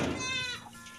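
A sick baby goat bleats once, close and fairly loud, a short wavering cry that trails off, with no talk over it.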